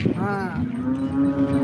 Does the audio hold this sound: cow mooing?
yes